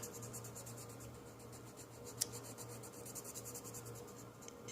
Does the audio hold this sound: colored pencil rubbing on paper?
yes